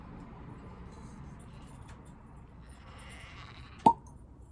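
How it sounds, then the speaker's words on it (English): Quiet background with a low rumble, then a single sharp pop of a cork pulled from a bottle of Smokehead Sherry Bomb whisky near the end, followed by silence. "let's get a really good cork pop here."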